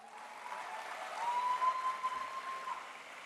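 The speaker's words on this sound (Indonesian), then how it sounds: "kita berikan aplaus" Audience applause at a Golkar party regional meeting in Jakarta, a steady wash of clapping filling the hall for a few seconds, moderately loud and even, with no voices over it.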